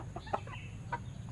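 Elba hens in a coop give a few soft, short clucks, spaced irregularly and fairly quiet over low background noise.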